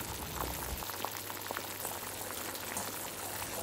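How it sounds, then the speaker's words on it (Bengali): Catla fish curry bubbles in a pan, a continuous soft simmering with small pops and bursts, close and fairly quiet, with no one speaking. "মাছগুলোকে ঝোলের মধ্যে দিয়ে আরেকবার ভালো করে ফুটিয়ে নেব।"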